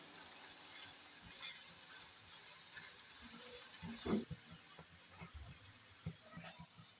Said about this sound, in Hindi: अच्छे से चम्मच हिलाएंगे और 2 मिनट के लिए इनको भी अच्छे से फ्राई कर लेंगे